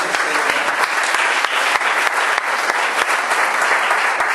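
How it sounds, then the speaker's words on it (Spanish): Congregation in a church breaks into a full offering of applause, loud, dense and continuous clapping filling the space from start to end. "Ofrenda de aplausos"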